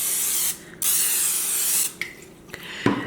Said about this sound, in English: use your handy dandy cooking spray, and then you just want to spray it